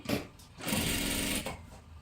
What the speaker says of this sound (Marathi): आता ह्याच्यावरती पुन्हा एकदा आपल्याला एक डबल शिलाई मारून घ्यायची आहे